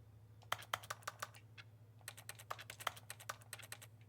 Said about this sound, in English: I'm hitting a keyboard regardless where I go.